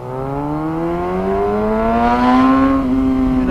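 A motorcycle engine droning steadily during a ride near Angeles City, its loud, close tone rising in pitch as it accelerates, then dipping briefly before holding on.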